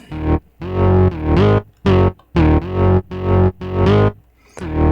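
A loud, gritty synthesized bass plays a short repeating loop of chopped notes with brief silent gaps between them, pumping rhythmically.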